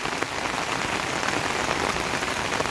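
Monsoon rain falls steadily as a dense, continuous hiss of drops on surfaces, fairly close and even in level, with no voices.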